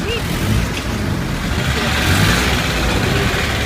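A car engine idles and rumbles steadily up close as a car is let through a student protest crowd, a continuous broadband drone with people talking around it.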